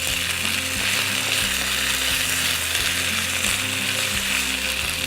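Potatoes fry steadily in a pan with a constant bright sizzle, while a utensil stirs and scrapes through them in a regular clicking, ratcheting rhythm, close and without talk.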